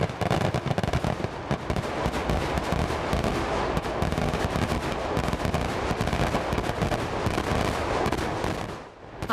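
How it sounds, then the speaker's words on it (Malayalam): Fireworks at the Uthralikkavu temple festival in Thrissur, Kerala, a dense, relentless barrage of rapid cracks and booms merging into a continuous roar, loud and unbroken for several seconds before briefly thinning at the end. "ആകാംക്ഷയോടെ കാത്തിരുന്ന വെടിക്കെട്ടിന് ആരംഭമായത്"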